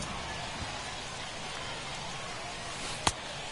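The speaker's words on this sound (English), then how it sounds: "the rain starting to intensify here. It's coming down a little heavier now." Rain hissing steadily on the field in an MLB baseball video game (Nationals vs Dodgers), a broad, even wash of drops with one sharp crack near the end.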